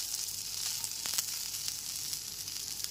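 Turmeric and Kashmiri chili powder hit hot spiced oil in a pan, giving a bright, continuous close sizzle with faint crackles and a few stirring scrapes.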